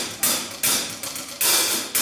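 Drum kit groove for praise and worship, with loud broadband crashes or open hi-hat bursts recurring about every half second to second over a steady low backbeat, the cymbal pattern shifting rather than staying constant.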